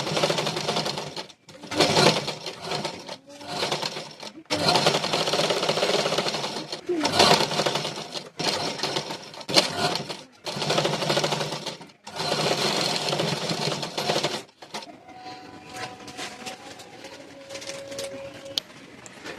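Collar blouse being stitched on a sewing machine in a series of short and longer whirring runs broken by brief pauses, close by, with faint bird coos and scraps of talk near the end.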